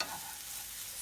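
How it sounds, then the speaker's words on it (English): Garlic sizzles and crackles in a hot pan on a stovetop. A brief, soft, steady frying hiss plays on its own. "I'm gonna throw the garlic in for like a minute"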